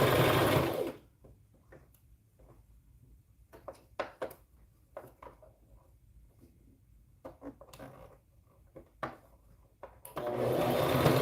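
A sewing machine stitching preemie shorts runs in a long burst at the start and again at the end, with quieter handling clicks and small rustles of fabric and pins in between.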